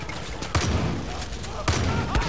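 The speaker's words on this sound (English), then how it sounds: "Just kind of firing wildly." Gunfire in the video game Far Cry 5, on an arcade assassination map: loud, close bursts with sharp reports at roughly half-second to one-second gaps, fired wildly over a steady noisy game background.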